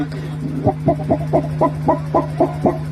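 A voice imitates a hen calling a rooster, a rapid run of soft, evenly spaced clucks over a steady low hum.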